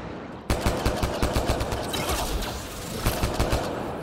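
A turret in Mass Effect Andromeda fires bursts of sharp, rapid shots, loud and close, with a brief lull in the middle before another quick volley.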